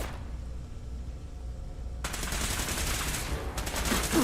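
Gunfire from the video game Fallout 4 aimed at a robot synth, a sudden burst of rapid, crackling shots that begins midway after a quiet stretch and continues loudly to the end.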